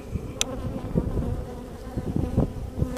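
Honey bees buzz steadily around a hive frame, a dense close drone with individual insects flicking past, no voices heard.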